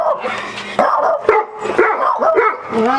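A pet dog barks and yips close by in quick, excited bursts, with whimpers mixed in, while waiting for its supper.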